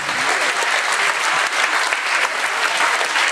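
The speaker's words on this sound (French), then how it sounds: "Andrea, Laurine, Vanessa, on peut les applaudir, hein." An audience applauds coaches being thanked one by one at a sports club gathering, a dense, steady clatter of many hands that stays loud throughout.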